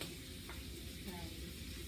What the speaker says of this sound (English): since we're stir frying